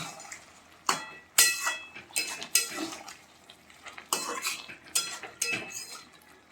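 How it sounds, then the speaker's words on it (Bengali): Utensil scraping and clinking against a pan as prawns are stirred into green jackfruit curry, a series of sharp metallic knocks and scrapes spaced irregularly over a quiet background, close and moderately loud. "চিংড়িটা দিয়ে আমি একটু নেড়ে নিচ্ছি"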